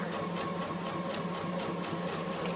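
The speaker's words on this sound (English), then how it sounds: "Sew down to the mark." A JUKI sewing machine stitches fabric for an embroidered face mask, running at an even pace with a fast, steady mechanical whir and rhythmic needle ticks throughout, close and unbroken, with no talk.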